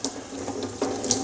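Water runs from a kitchen sink tap to wet crustless bread for gazpacho, a steady close splashing stream with slight shifts in flow.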